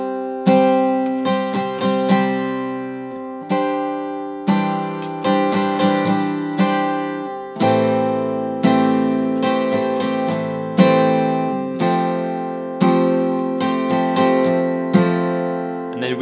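An acoustic guitar strums chords in a steady down-up pattern, with rhythmic bursts of strokes that shift between chord shapes, played alone and clear with no voice over it.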